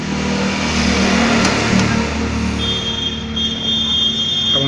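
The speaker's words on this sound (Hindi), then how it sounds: "हम लोग ट्रैक्टर की आवाज़ सुनेंगे" Eicher 333 tractor, a 2022 model, with its diesel engine running steadily nearby, a continuous low engine hum and drone with no voices over it.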